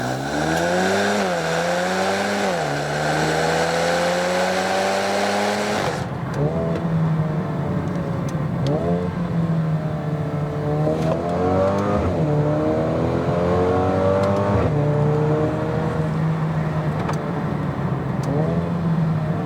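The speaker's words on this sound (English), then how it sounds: "It responds fast, shifts gears even faster, and all with no interruption in power flow from the 302 horsepower Turbo 4." A 2022 Mercedes-AMG GLB 35 with a 302-horsepower turbocharged four-cylinder engine accelerating hard, its engine note climbing in pitch and then dropping sharply with each quick gear shift, loud and sustained from inside the cabin.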